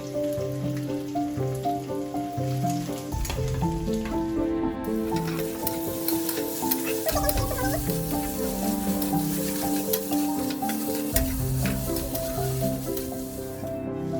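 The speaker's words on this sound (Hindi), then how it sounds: "कैप्सिकम डालेंगे, कैरेट डालेंगे, स्लाइस चॉप्ड ऑनियन डालेंगे।" Capsicum, carrot and sliced onion stir-fried for street-style veg chowmein sizzle loudly and steadily in a hot pan, with rhythmic stirring scrapes throughout and no talking.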